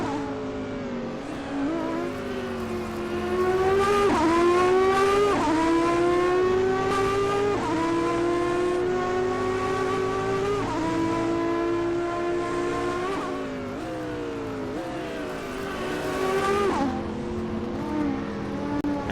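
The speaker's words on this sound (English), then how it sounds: "I think that's the Ferrari 333." A Ferrari 333 race car at Phoenix, heard during a Grand-Am race, produces a loud, high-pitched engine wail that climbs through repeated upshifts, rising and dropping in pitch over nearly twenty seconds as it swells and recedes.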